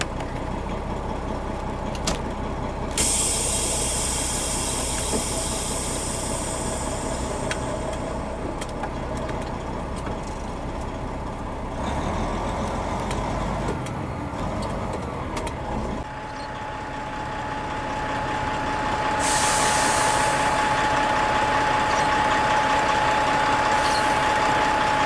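Trucks in slow traffic beginning to creep forward, steady engine idle and low diesel rumble heard from a cab, with occasional higher whines and a rising tone toward the end.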